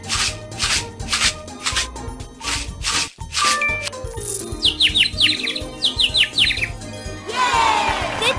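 Cartoon birds in a pony and baby horse care video game chirp in quick bright tweets that follow a run of rhythmic jingly game sounds and end in a sparkly chime flourish.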